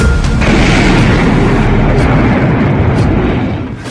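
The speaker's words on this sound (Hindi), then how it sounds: "इस धमाके पर ज़ेलेंस्की के नए ऑर्डर की छाप लगी हुई है।" A powerful explosion in Moscow, captured in news footage, gives a loud, sustained booming roar with heavy low rumble. It fills nearly four seconds before easing off at the end.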